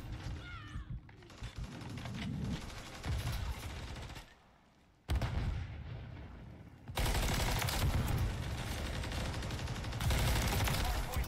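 Rapid bursts of gunfire in the Call of Duty video game, loud and dense, pausing briefly around four seconds before resuming heavier, with a faint voice underneath.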